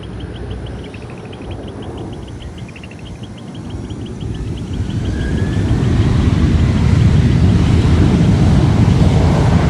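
A Boeing 737 airliner at close range, a loud broad roar of engine and wind that swells steadily over about ten seconds, with no talk.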